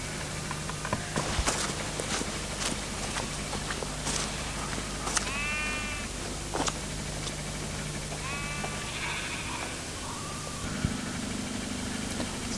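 Sheep bleating in open fields on Exmoor, a few wavering bleats at a moderate distance amid footsteps and quiet outdoor ambience, with a low hum toward the end.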